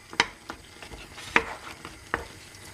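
Pepper is tossed into a pot of seafood okra stew, with a few sharp clinks and soft sizzling stirs standing out over a faint background hiss.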